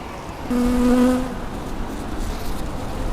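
A honeybee drones loudly past for about a second during a hive inspection, then a soft, steady buzzing hum from the hive continues underneath.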